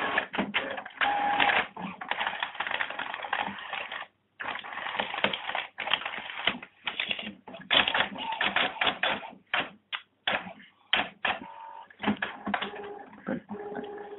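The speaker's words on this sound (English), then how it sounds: "the printer is completing the cleaning cycle" An HP Photosmart 6515 inkjet printer running a cleaning cycle clicks, clatters and whirs in irregular mechanical bursts with short pauses, close by and moderately loud.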